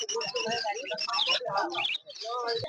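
Exotic Bengalese finches chirp and twitter busily at a crowded bird market, with dense overlapping calls, a couple of low knocks and steady chatter throughout.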